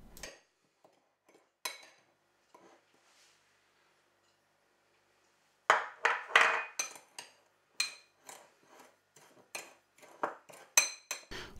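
Sugar and vanilla sugar being stirred together in a bowl, sparse faint clicks at first, then a quick run of sharp clinks and scrapes of a utensil against the bowl.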